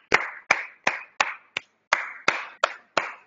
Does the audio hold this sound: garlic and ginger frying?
no